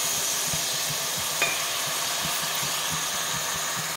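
A small splash of water hits jaggery in a hot pan on the stove, setting off a steady, loud sizzle with faint stirring scrapes and one brief squeak.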